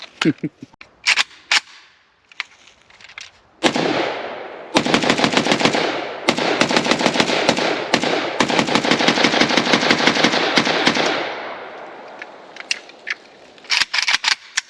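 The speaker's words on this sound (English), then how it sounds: "What a joy to shoot." An Arsenal SAM5 rifle fires outdoors, starting with a few scattered single shots and then long loud rapid strings of close gunfire, with voices in between.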